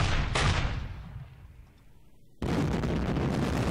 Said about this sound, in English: Let's give these guys some artillery barrages in this town.